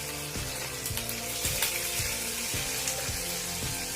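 Green chillies frying in a pan, a dense, constant hiss of sizzling oil with a few soft, regular knocks underneath.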